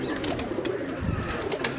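Teddy pigeons, black and blue birds, coo softly and repeatedly close by in a low, throaty rhythm.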